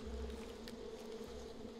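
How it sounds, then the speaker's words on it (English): Bees buzzing in the video game Far Cry 5, a steady low droning hum that stays faint and close throughout the short stretch, with no talk. "Freaking bees out of everything."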